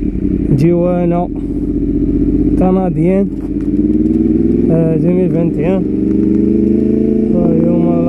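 A 2018 Yamaha R1 sport motorcycle engine revs hard and rises in repeated throttle blips over a steady loud idle, with someone talking over it throughout.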